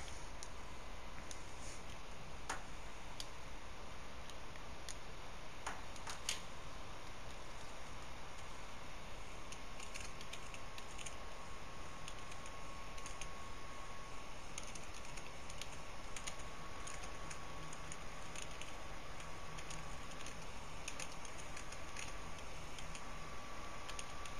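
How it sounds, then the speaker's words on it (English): Typing on a computer keyboard: scattered, faint keystroke clicks over a steady background hiss, with no talking. "I have to do the typing, and give me a moment."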